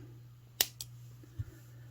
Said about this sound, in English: I'm going to take my cutters, cut off my extra wire.